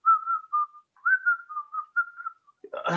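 A person whistles a wavering, breathy tune in short phrases, ending with a brief rustling thump.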